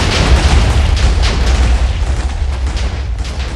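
A missile blast in Minecraft Missile Wars erupts as a loud, sustained roaring boom, rumbling broadly and crackling with debris for a few seconds before slowly easing.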